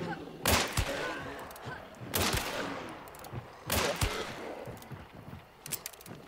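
Gunfire in the Hunt: Showdown video game: three heavy reports roughly a second and a half apart, each with a long rumbling tail. Lighter clicks and clatter follow near the end.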